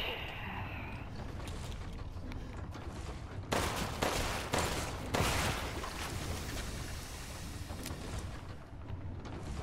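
A few loud gunshots in Resident Evil Village punch out over a dim, rumbling background, spaced a second or so apart in the middle of the stretch.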